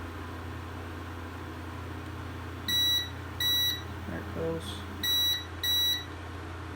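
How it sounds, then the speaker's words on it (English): An Elegoo 3D printer beeps during build plate leveling: four short, bright electronic beeps in two pairs over a steady motor hum, with a brief voice and a soft mechanical clunk between them. "So it should touch it and then beep a couple times."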